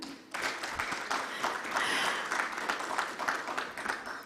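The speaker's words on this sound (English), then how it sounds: "Can we give her a bigger hand clap?" Applause from an audience at a leadership summit, a sustained wash of many hands clapping at moderate distance, starting abruptly and carrying on evenly for several seconds with faint voices underneath.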